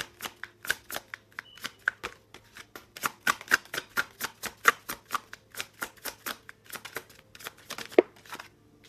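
An oracle card deck being shuffled by hand, a close, steady series of crisp riffling snaps repeating about every quarter second throughout, with faint background hum and no talk.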